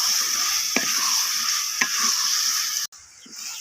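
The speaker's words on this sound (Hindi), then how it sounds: "अच्छे से कर लेंगे मिक्स" Turnip and peas frying with masala in a pan, a steady hissing sizzle with two sharp utensil knocks against the pan as it is stirred, then a brief cut-off.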